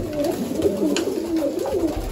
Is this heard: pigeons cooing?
yes